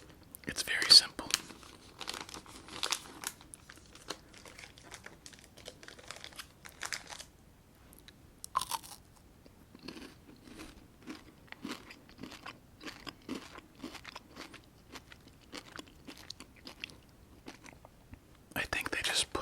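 A Crunch chocolate bar with crisp rice is bitten and chewed close to the mic, sharp crunchy bites followed by a run of crisp chewing crackles, with soft whispered talk and wrapper crinkles.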